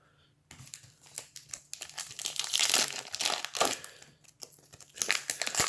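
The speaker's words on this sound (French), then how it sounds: "les paquets, ça se déchire vraiment n'importe comment en ce moment." Hockey card pack wrappers from an Upper Deck Series One hobby box crinkle and tear up close in bursts of rustling foil, louder in the middle, while someone speaks softly at times.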